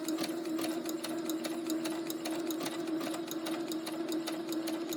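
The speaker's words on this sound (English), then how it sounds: "And my sewing machine does go faster." A sewing machine fitted with a blind hem foot stitches at a steady, moderate pace, its needle producing an even run of rapid mechanical clicks over a constant motor hum, close and alone with no talking.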